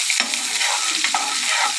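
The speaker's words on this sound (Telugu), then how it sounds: "బాగా ఫ్రై చేసుకోవాలా." Onions and curry leaves frying in hot oil with mustard seeds, a steady bright sizzle with stirring scrapes throughout, close and fairly loud, no talking.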